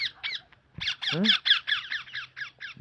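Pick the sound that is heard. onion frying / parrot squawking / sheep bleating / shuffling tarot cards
parrot squawking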